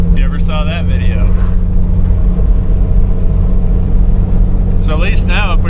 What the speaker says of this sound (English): right behind me is my son driving his Jeep Liberty